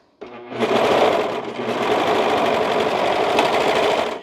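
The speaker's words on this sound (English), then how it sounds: "before I sew both of them, just gonna make sure this one worked" A sewing machine stitches a seam on a butterfly cardigan, running loud and close in one continuous whirring burst of about four seconds with a brief slowdown partway through.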